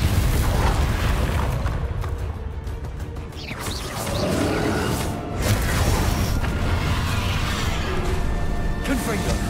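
Confringo fire spell blasts in the video game Hogwarts Legacy, loud booming explosions and crashing impacts layered over dense battle noise, with a voice speaking across the clip.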